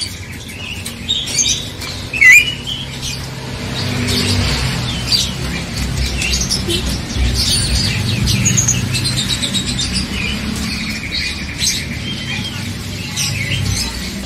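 An Asian pied starling (jalak suren) in a bird market sings and squawks in short, bright bursts amid chirps from other caged birds and a low background murmur.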